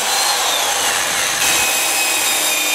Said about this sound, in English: I'm going to have to drill holes and tap them for screws